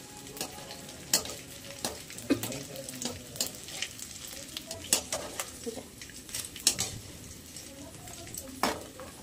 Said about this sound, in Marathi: हा, डिंक थोडासा तळून घ्यायचा आपण.